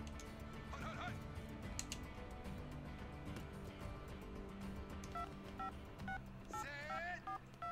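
An incoming phone call plays in Madden NFL 19: a stepped series of electronic ringtone beeps near the end, over steady in-game background sound.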